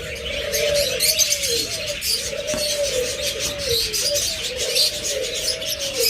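Pigeons at a farm where birds are kept for sale coo and call steadily in a low repeating rhythm, with fainter chirps and twittering from other birds mixed through the background and no talk.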